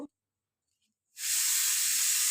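Dried red chillies and whole cumin hitting hot oil that has just fried lentil dumplings: after a moment of near silence, a sudden bright sizzle erupts and holds strong and steady.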